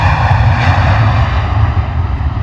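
An EasyJet Airbus A320 jet departs for Lisbon, its engines a steady, loud, broad roar with deep low rumble holding constant throughout, no voices.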